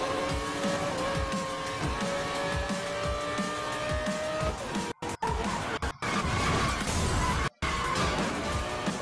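In Need for Speed Most Wanted (2012), a racing car's engine roars under tire noise, then harsh impact and crash bangs break up the sound as an opponent car is knocked off the road.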